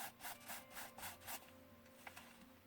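A white tissue rubs briskly over dried mica powder paste, with a quick series of soft scratchy strokes that stop after about a second and a half, followed by faint small sounds.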